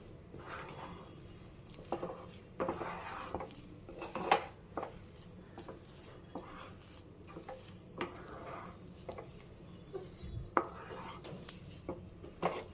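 Semolina and maida flour dough stirred in a pan, with quiet scraping and irregular knocks of a spoon against the metal, close by and fairly soft, with no speech.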